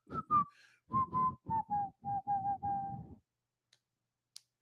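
A person whistles a short melodic tune in clear, steady notes, ending in silence with a couple of faint clicks.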